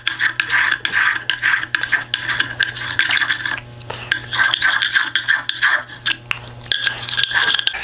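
A hand plane shaves a chamfer along the edge of a wooden toy toolbox piece, giving repeated rasping strokes in a steady rhythm, close and fairly loud, with brief pauses between passes.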